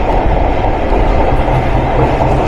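The Nakshi Kantha commuter train in Bangladesh rolls along the rails near Keraniganj on the Dhaka–Mawa line, a loud, steady, close rumble of wheels and carriage noise heard from on board.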